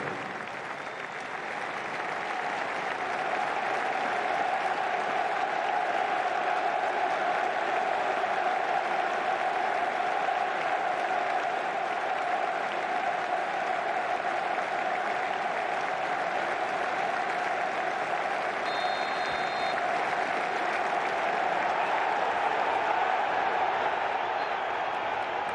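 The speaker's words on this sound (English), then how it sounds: "There will now be a period of applause in his honour" A stadium crowd at the Manchester City vs Chelsea Champions League final applauds in tribute to a late figure, a steady, dense wash of clapping sustained for the whole stretch without breaks.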